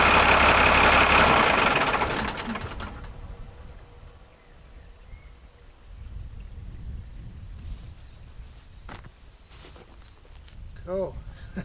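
Truck engine running without an engine fan, loud at the start and then cutting down to a low rumble, with people talking and moving nearby.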